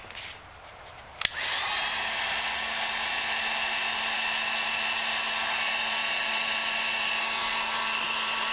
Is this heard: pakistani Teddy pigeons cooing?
no